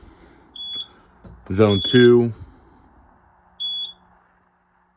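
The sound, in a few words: fire alarm panel sounding during an audible system test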